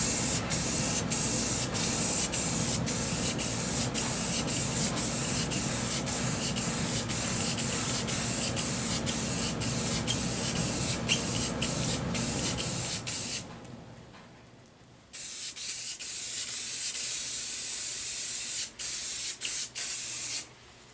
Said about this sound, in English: So I'm going to hit this with some Rust-Oleum White.